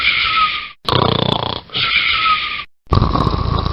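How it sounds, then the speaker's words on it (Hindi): Loud snoring from a grandfather asleep, rough rasping breaths in three long pulls separated by short silent gaps, close by with no talk over it. "दादाजी इतने जोर जोर से खर्राटे भरते हैं"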